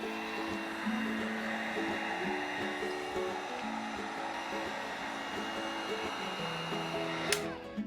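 A heat gun blows hot air over resin on a cutting board, a steady, close whooshing hiss that runs without a break, with faint tones in the background.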